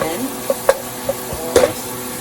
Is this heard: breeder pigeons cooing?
no